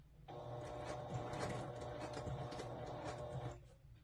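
A sewing machine runs slowly and steadily while stitching a fly front zipper toward the crotch seam, giving a continuous close mechanical whir for a few seconds before stopping.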